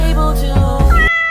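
A cat gives one loud, close, drawn-out meow that rises and then cuts off, with a tonal electronic hum underneath and no talking.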